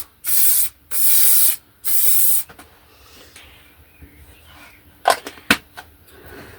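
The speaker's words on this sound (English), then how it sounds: "a light spray" Three even bursts of aerosol spray hiss close by onto a smudged oil painting, each lasting about half a second, followed by quiet handling clicks and taps.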